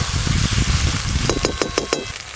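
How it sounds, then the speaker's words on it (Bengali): Onion and ginger-garlic paste sizzling loudly in hot oil as it is sautéed for doi katla fish curry, with dense close crackling and a run of quick rhythmic spatula scrapes near the end. "যতক্ষণ আদা রসুন পেঁয়াজের কাঁচা গন্ধ যায় ততক্ষণ বেশ ভালো করে কষে নেব"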